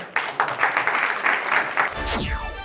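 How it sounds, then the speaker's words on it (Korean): A studio audience on a Korean morning TV show claps in uneven bursts before a top-prize award announcement, fairly close and without voices, then a sweeping electronic transition sound cuts in at the end. "큰 박수 부탁드립니다"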